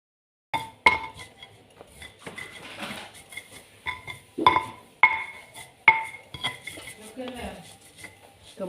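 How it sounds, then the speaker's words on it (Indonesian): Grated coconut being ground in a stone mortar with a pestle: irregular clacks and scraping knocks of stone on stone, some sharp and ringing, with brief voices in the background. "Kita masukkan kelapa, kita ulek lagi."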